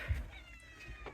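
A single cat meows once, fairly quiet and short, against a soft outdoor farm background after rain.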